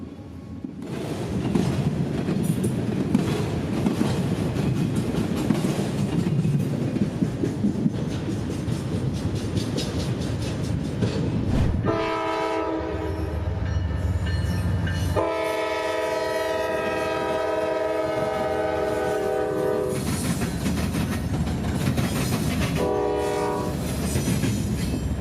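Norfolk Southern freight Q203 of loaded auto racks led by a fresh CM44AC locomotive barrels southbound through downtown, a loud close rumble and wheel clatter with repeated long blasts of the horn over the passing train.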